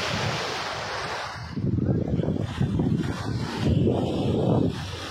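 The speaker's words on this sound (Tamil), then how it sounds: "கடல் பார்க்க நல்லா தான் இருக்குது" Sea waves break and wash in at Mullakkadu beach, a steady roar of surf swelling twice into louder crashes, mixed with gusty wind noise on the microphone.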